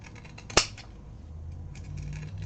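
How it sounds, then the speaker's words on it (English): Pinking shears make one sharp snip through fabric along a curve while sewing a handbag, then a quiet pause and faint handling. "I'm going to grab my, what are these called? Pinking shears. And I'm going to cut along this curve"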